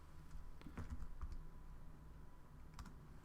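Keys on a computer keyboard are tapped in a short, irregular run of light clicks, faint and close against a low background hum, with no voices.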